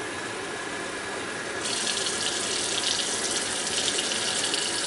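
Tap water runs steadily into a blender jar for oat milk, a continuous hiss that swells louder partway through, with no talking.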